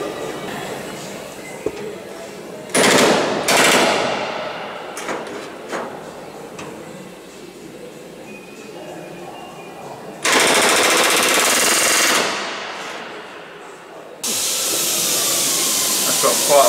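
Pneumatic rivet gun fitted with a button snap, driving rivets into the aluminium skin of an Avro Lancaster bomber under restoration; loud broadband bursts of a few seconds each, separated by quieter workshop background with some voices.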